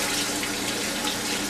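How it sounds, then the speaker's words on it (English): Plain water pouring from a tap into a cooking pot holding pork and spices, a loud, steady rushing splash without break. "And now I want to add water."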